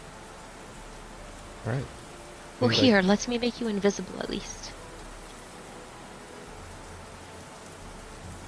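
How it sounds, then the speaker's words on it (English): Steady rain ambience plays through a tabletop Dungeons & Dragons session, a soft continuous hiss of falling rain beneath a short stretch of one person talking. "I don't think anybody's gonna be paying too much attention with this rain."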